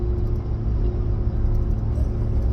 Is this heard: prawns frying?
no